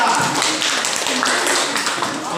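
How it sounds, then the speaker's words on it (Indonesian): A classroom group claps for group 3, a short burst of dense applause with tapping hands throughout, fairly loud and close, with voices mixed in underneath. "Beri tepuk tangan untuk kelompok 3."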